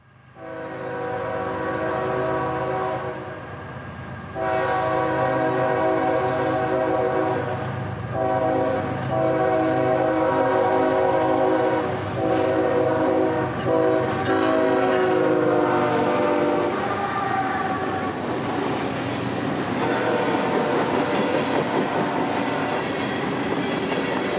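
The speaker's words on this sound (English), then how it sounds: "trains like M583 barrel south, with freight for Rocky Mountain out of Nashville" A CSX freight train rolls past at night on a North Georgia line, its horn sounding in long loud blasts over the steady rumble and clatter of railcars, close and continuous throughout.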